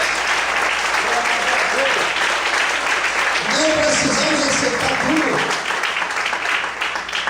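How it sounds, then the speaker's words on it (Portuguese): A church congregation applauds steadily and loudly throughout, the clapping filling the room while a preacher speaks over it. "Você pode aplaudir o Senhor por isso?"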